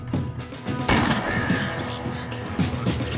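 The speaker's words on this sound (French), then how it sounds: "c'était quoi ce coup de feu?" A sharp gunshot cracks out amid busy game sounds and music in As Dusk Falls, followed by scattered smaller impacts and a rising tone.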